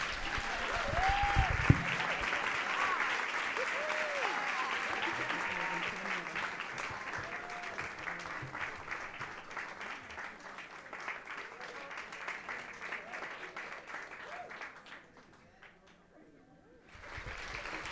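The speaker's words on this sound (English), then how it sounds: "Let's give them another round of applause, y'all." Sustained applause from an audience at a Girl Power contest award ceremony fills the room at close range, with a brief loud clap early on, then thins and fades near the end before a short final burst.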